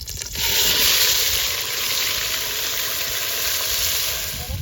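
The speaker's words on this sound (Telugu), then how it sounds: "ఇప్పుడైతే ఉల్లిపాయ టమాటా పచ్చిమిర్చి అయితే వేసాం కదండి అదైతే వేగుతుంది కదా" Onion, tomato paste and green chillies fry in hot oil in a pan, giving a loud, steady sizzle with a hissing, bubbling texture that carries on without pause and with no talking.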